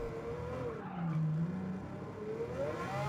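A race car in the Gran Turismo 7 video game spinning around after hitting a wall, its engine droning steadily while tires squeal and skid in a long sliding wail. It sounds close and continuous, with no talk.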